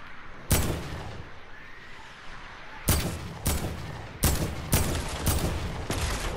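Gunfire in the Fortnite video game: a single loud shot, a pause, then a rapid run of five heavy blasts in quick succession, close and punchy with no voices.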